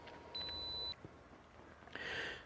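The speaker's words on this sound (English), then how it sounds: "It's starting to beep to let you know that the cook time is almost done." A Febote sous vide cooker gives a steady electronic beep as its cook time ends, a held tone followed by a brief electronic chirp near the end, close and fairly quiet with no talking.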